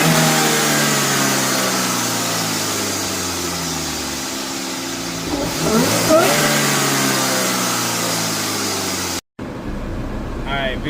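Chevrolet Cobalt SS running on the road, a steady mid-pitched engine drone with a gentle rev rise near the middle, fairly loud and continuous, with a brief dropout near the end.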